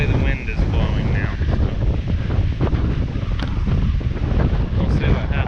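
Strong wind gusts buffet the microphone outdoors in stormy weather, a continuous loud roaring rush with bursts of turbulence throughout.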